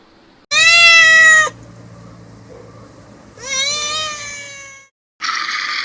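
A cat meows three times, close and clear: a long sustained meow, a rising wavering one after a pause, then a short cut-off cry.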